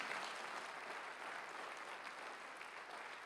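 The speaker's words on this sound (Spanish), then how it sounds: "Dale un fuerte aplauso al Rey." Applause in a church service fills the space, a faint, distant and steady wash of many hands clapping with no talk over it.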